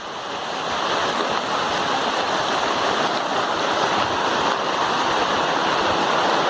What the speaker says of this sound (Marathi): पाऊस जोराचा चालू झाला